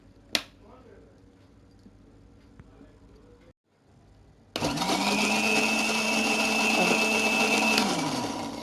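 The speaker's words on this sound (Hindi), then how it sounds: "इसको डालकर इसमें हम ग्राइंड कर लेंगे।" A blender grinds browned large onion into a paste, starting abruptly with a loud, steady whirring roar that runs for several seconds after a quiet stretch with a snap and faint background.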